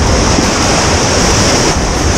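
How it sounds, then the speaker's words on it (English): Ground swell breaking on an ocean shore at a bluefish fishing spot: a steady, loud, unbroken wash of surf with some wind noise, and no voices. "So the wind swell's sort of turned into more ground swell now."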